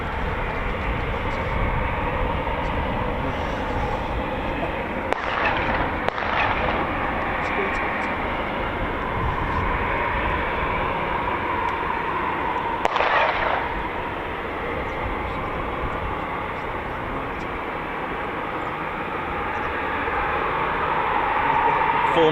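A Eurofighter Typhoon FGR4 of 6 Squadron RAF taxis on the move at its QRA station, a steady broadband jet roar holding for the whole stretch with brief louder surges near the start and middle, while a voice talks over it.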